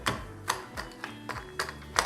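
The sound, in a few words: crushing toffee pieces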